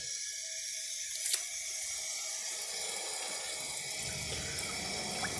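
Water trickles slowly into the tank of a 1974 American Standard Cadet toilet, a faint, steady hiss with a brief click partway through and a low rushing swell toward the end.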